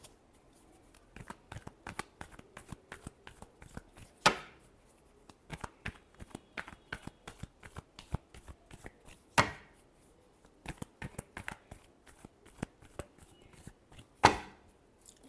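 Tarot cards shuffled by hand in a quiet room for a Leo reading, a dense run of crisp flicking riffles with three louder slaps as the deck is squared, no talking.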